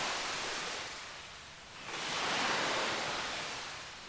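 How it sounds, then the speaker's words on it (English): Ambient water sound in the point-and-click adventure game Lost in Time, like sea surf or water rushing through pipes, a soft continuous wash that dips briefly then swells again, heard alone. "And now I get to hear the lovely sounds of the sea, no matter where I go."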